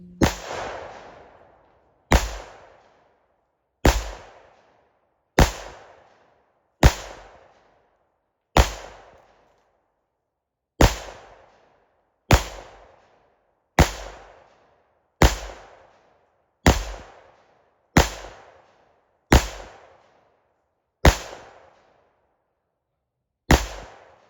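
A 10mm pistol fitted with a red dot sight fires fifteen sharp shots in a slow, steady sequence, each loud crack spaced a second or two apart with a short decaying echo, and no talking.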